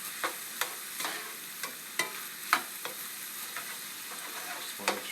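Gochujang is stirred into a stir-fry in a hot pan, with a continuous close sizzle broken by repeated spatula scrapes and taps at an uneven rhythm, with no one talking.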